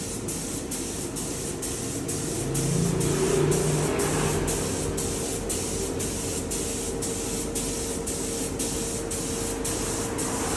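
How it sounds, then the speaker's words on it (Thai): Clear coat sprays in a continuous loud hiss onto a plastic car headlight lens, with a rapid regular ticking pulse running underneath and a brief swell in intensity partway through. "ให้ ละอองสเปรย์เนี่ย ไปทั่วนะคะ ทั้งพื้นผิวบนพลาสติกโคมไฟหน้ารถนะคะ"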